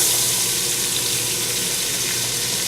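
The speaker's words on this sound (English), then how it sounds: "we're going to add our onions" Diced onions sizzle in butter and olive oil in a pan, giving a loud, steady, dense hiss of frying close up, with no talking.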